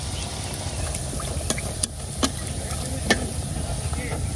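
Jute leaf pakoras dipped in gram flour batter frying in hot oil, a steady soft sizzle running the whole time with a few small clinks, quiet and close.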